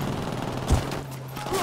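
Gunfire in the tactical shooter Ghost Recon Wildlands during a firefight near civilians, with one sharp, heavy shot standing out over a low, steady game background.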